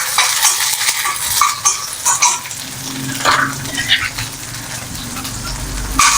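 Onion, garlic, ginger and tamarind sizzle and crackle while frying in a pan for a horse gram chutney, a steady close hiss with occasional stirring scrapes.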